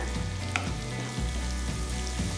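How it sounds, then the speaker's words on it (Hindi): Half a tablespoon of garlic fries in a pan, a steady loud sizzle that runs unbroken with a few soft stirring knocks and no voices. "अब हमने हाफ टेबल स्पून लहसुन इसके अंदर ऐड करना है। इसको हल्का सा फ्राई करना है।"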